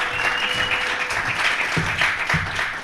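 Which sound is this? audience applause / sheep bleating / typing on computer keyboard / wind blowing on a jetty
audience applause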